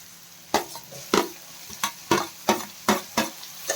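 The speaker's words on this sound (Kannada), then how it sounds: "ಇದು ಟೊಮೆಟೊನೂ ಒಂದು ಸ್ವಲ್ಪ ಚೆನ್ನಾಗಿ ಫ್ರೈ ಆಗಬೇಕು" Bitter gourd and tomato frying in a pan, quiet sizzling under a series of sharp stirring scrapes and clacks roughly every half second, close up.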